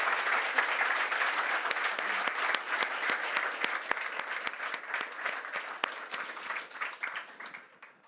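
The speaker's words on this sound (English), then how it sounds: "Please, a round of applause for our panel." An audience at a whisky forum in Stauning gives a panel a round of applause: dense, steady clapping from many hands that fades out toward the end.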